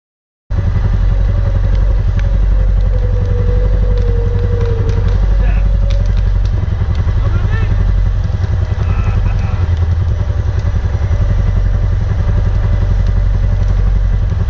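The original engine of a restored John Deere 6X4 utility vehicle runs close by at a steady, loud idle, chugging evenly with a faint rattle throughout.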